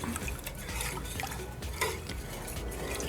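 Bread pudding mixture with maple syrup and vanilla being stirred in a bowl, a continuous close wet swishing and sloshing with faint clinks of the utensil, steady and even throughout, no speech.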